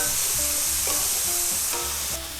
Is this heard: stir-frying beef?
yes